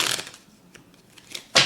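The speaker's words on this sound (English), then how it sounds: "We're going to go ahead and we're going to shuffle our Lenormand" A worn deck of Lenormand cards is shuffled by hand in a few quick, close papery riffling bursts, ending in one louder flutter, with quiet pauses between.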